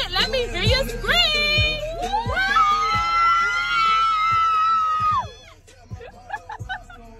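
A crowd of excited voices at a Jackson State University homecoming party screams together in a loud, sustained group cheer for a few seconds, then trails off into scattered shouts and chatter.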